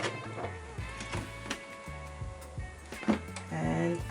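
Sewing machine running a zigzag stitch across folded fabric scraps: rapid mechanical whirring in short bursts that stop and restart, close by, with faint speech.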